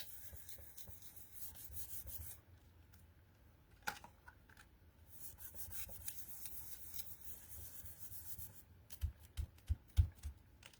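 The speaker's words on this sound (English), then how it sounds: "Somewhere I should have a scrap piece of paper. You'll do. Just to press down, get that ink transferred." Scrap paper is rubbed by hand over a card to press stencil ink through, a soft scratchy rubbing close up with intermittent light taps and a few sharper knocks near the end, and no talking.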